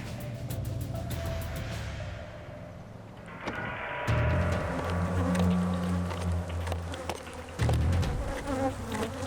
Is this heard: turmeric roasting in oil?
no